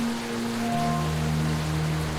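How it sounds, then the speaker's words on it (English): Steady rain falling, a constant dense patter with low tonal hum underneath, continuous and even from start to finish with no voices. "It's never gonna stop raining."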